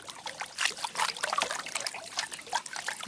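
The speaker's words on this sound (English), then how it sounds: "Okay, I'm panning tiny gold." Water trickling and sloshing in a gold pan as fine gold is panned outdoors, a steady close run of dribbles and splashes with no talking.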